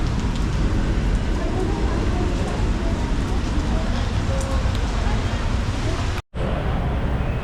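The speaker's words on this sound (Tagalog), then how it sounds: "Ang lakas ng ulan mga tepo, hindi agad ako makaalis." Heavy rain falls as a constant, loud, dense wash of noise with no clear pauses, briefly cut off near the end before resuming.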